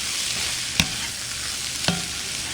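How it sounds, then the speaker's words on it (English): Cooked lentils, rice and onions are stirred together in a pot for mujadara: a soft, constant sizzle with two sharp utensil knocks against the pot. "I'm going to add them to my pot and stir them together with my rice and my half of my onions"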